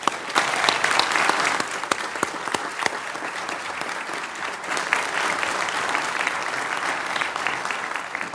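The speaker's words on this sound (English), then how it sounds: "You can go ahead and give them an applause now." A crowd at a city council meeting in Smyrna, Georgia applauds continuously throughout, dense clapping with a few sharper nearby claps standing out, no voices.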